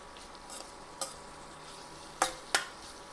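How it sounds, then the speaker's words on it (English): Sliced onions sautéing in a pan give a faint, quiet sizzle, broken by a few sharp scrapes and clicks of a utensil stirring against the pan. "Next, we'll add in our sliced onions. Saute the onions well."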